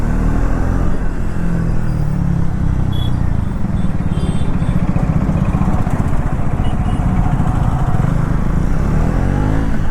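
A Triumph Thruxton 400 motorcycle riding through city streets in third gear at about 30 km/h, its steady engine rumble loud and close throughout with a slight rise in revs, with no voices.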